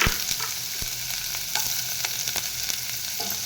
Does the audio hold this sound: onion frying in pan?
yes